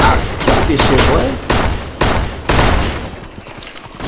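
Rapid bursts of gunfire in the Western video game Six Guns, several loud volleys in quick succession, with a voice briefly mixed in.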